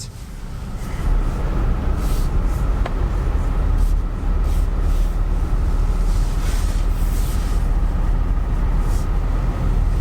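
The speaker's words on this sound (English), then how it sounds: "so far the engine sounds pretty good" An old hybrid car's engine, a Toyota Prius or Honda Civic Hybrid, runs with a steady, loud low rumble and broadband noise throughout, heard from inside the vehicle.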